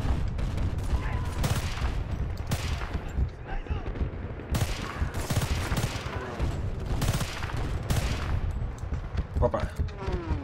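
Gunfire in the video game Battlefield: Bad Company 2, with repeated loud bursts of rifle and machine-gun shots in quick volleys and booming impacts across the clip, while someone talks over the action.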